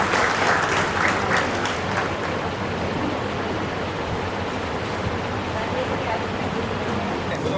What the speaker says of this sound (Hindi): पढ़े लिखे लोग, मुझे लगता है तालियां जरा धीरे बजाते हैं